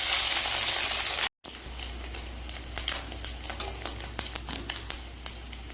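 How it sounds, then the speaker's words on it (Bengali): Fish roe seasoned with salt and turmeric fries in oil in a wok, giving a close, lively sizzle full of quick popping crackles and spatters after a brief cut near the start; no one speaks. "এবার মাছের ডিমটা ভেজে নেব।"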